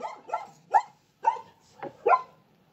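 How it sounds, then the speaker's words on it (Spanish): A dog barks six times at close range indoors, sharp, fairly loud yaps spaced unevenly by short silences, with a slightly whiny edge to some of them. "disculpen por mi perra"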